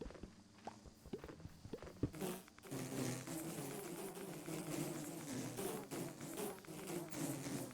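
Swarms of bees buzzing in a modded Minecraft world, a steady dense drone that swells in after a few sharp footstep-like game clicks and then continues moderately loud to the end.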